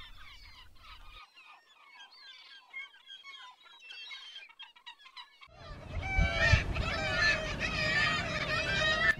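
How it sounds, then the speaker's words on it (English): Gulls calling noisily on Mumbles Pier, with harsh repeated cries that start faint and thin, then swell into a loud, overlapping racket of many birds near at hand. "These seagulls are making a real racket."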